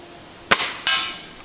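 Two sharp pops from an air rifle firing Sig Sauer match pellets at a 50-yard target, each crack followed by a brief fading hiss, close and loud with no talking.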